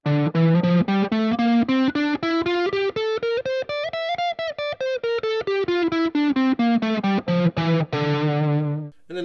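A distorted electric guitar plays a D Aeolian (D natural minor) scale of single picked notes climbing up and then descending back down, evenly paced, ending on a sustained low note.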